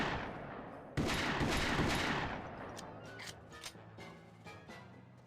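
Rapid gunfire bursts in the shooter video game Contract J.A.C.K., a dense volley of shots for about two seconds followed by scattered single cracks and fading echoes, fairly quiet overall with no talking.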